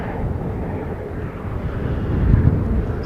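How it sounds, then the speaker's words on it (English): A small light aircraft approaching on its way in to land, heard as a steady, broad engine drone at moderate distance that swells slightly toward the end, with some wind noise over the microphone and no talking. "we've got another wee light aircraft coming in."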